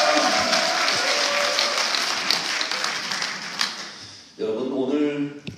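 A lecture audience at a Seoul party academy talk applauds and cheers in a dense, sustained burst of clapping that fades toward the end, and a voice starts speaking over a microphone as it dies down.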